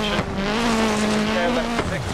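A rally car engine in the Dirt Rally video game, on a Wales stage: a loud, close, steady revving drone with a sharp gear change near the end and faint tyre noise.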